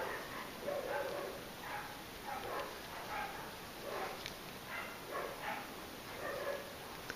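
Dogs barking outside, repeated muffled barks and yips heard at a distance through walls, coming in irregular bursts over several seconds against a faint steady hiss.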